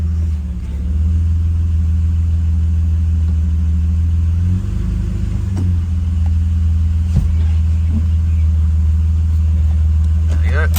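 A neglected car's engine idles steadily as the car is backed off ramps, a loud continuous low drone with a brief surge in pitch midway and a few small knocks.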